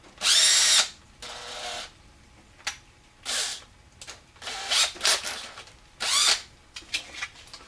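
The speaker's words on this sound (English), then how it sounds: "And then I take the axle and put it in my drill." A cordless power drill spins a pinewood derby car axle in short bursts, spinning up and stopping repeatedly with brief pauses between, close and fairly loud.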